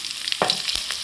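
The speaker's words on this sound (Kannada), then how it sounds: "ಫ್ರೈ ಮಾಡ್ಕೋಬೇಕು" Cumin, green chillies and curry leaves fry in hot oil in a pan with a brief steady sizzle and a couple of quick stirring scrapes.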